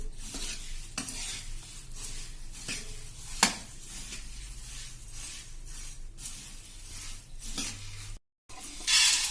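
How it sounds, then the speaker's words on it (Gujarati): Hot tempered puffed rice (murmura) is scooped and scraped from a hot kadhai into another vessel, giving repeated close scraping and stirring clatter with a faint sizzle underneath, a sharp metallic knock midway and a brief silent gap near the end. "તો આ રીતે આપણે હવે એને બીજા વાસણમાં લઈ લેશું."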